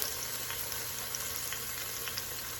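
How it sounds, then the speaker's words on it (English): Tri-tip beef sears and browns in a hot pan, giving a steady, dense, close sizzle that holds level throughout with faint crackles and no voices. "add in the beef, and we're going to just sear it and brown it up on all sides"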